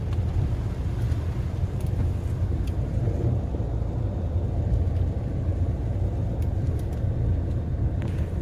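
Jeep Meridian SUV crawling over an off-road course with two wheels lifted in the air, a steady low engine rumble and drivetrain drone heard from inside the cabin, continuous and unbroken with faint wind buffeting.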